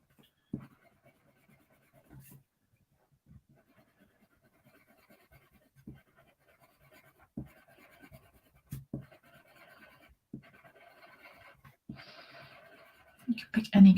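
Coloured pencils shading in a colouring design; soft, close scratchy strokes come in short bursts with quiet pauses, and faint talk can be heard in places.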